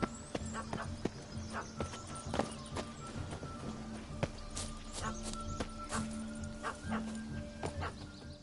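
A dog barking in The Witcher 3: Blood and Wine, several sharp barks scattered over a busy game scene with clopping hooves and background ambience, moderately quiet.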